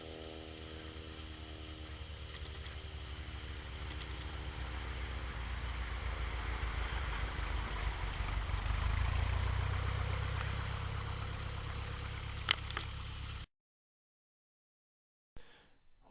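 Maule airplane engine on a runway during a wheel landing rollout, a steady droning hum that swells and then fades before cutting out abruptly near the end.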